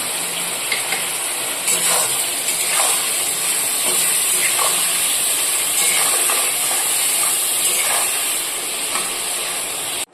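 Shrimp frying in oil with salt and turmeric, a steady bright sizzle with soft stirring scrapes, close and continuous until it cuts off.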